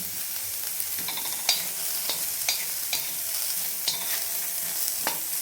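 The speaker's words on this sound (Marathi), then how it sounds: "तवा छान गरम झाल्यानंतर एक कांदा आपण आणखी याच्यामध्ये टाकलेला आहे उभा चिरून ह्याला पण आपल्याला भाजून घ्यायचं खरपूस" Sliced onion dry-roasting on a hot iron griddle (tava) sizzles softly and continuously, punctuated by sharp scraping clicks of stirring every second or so, close and with no voices.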